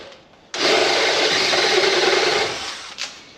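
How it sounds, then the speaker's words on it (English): A drill bores out prick-punched holes in steel U-channel for a Yamaha Grizzly frame repair. It gives one close, steady grinding whine that lasts about two seconds and then spins down, with no talking. "now I'm going to drill them out"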